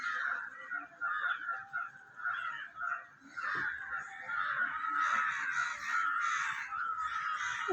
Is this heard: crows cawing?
yes